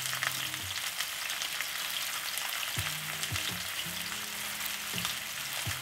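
Osso bucco shanks browning in a hot pan give off a steady, dense sizzle that fills the whole stretch at moderate loudness, with a faint low hum underneath and no talking.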